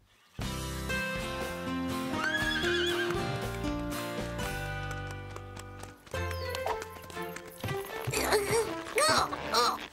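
Cartoon horses gallop with rapid clip-clop hoofbeats and repeated loud neighs and whinnies over a busy musical score, with a brief laugh-like voice near the end.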